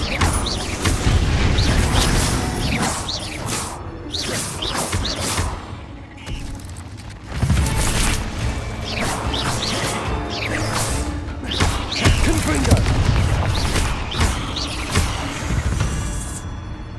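Repeated Confringo spell blasts in Hogwarts Legacy, a series of loud booming explosions and crashes with debris and clattering spread across the stretch, no talk over them.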